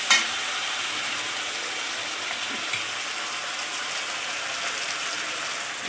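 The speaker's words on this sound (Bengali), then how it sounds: "এটা ভালো করে ভেজে নেব, তেল বেরিয়ে যাবে" Chicken and jackfruit curry masala sizzles and fries in oil in a pan for Bengali-style cooking, a steady close-up hiss that continues throughout with no one talking.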